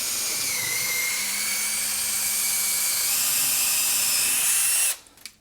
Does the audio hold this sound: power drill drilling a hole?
yes